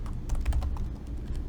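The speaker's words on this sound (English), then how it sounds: "Typing is difficult." Quick bursts of keystrokes on a computer keyboard during a Python programming session, close and crisp with an uneven rhythm of several clicks, no talk.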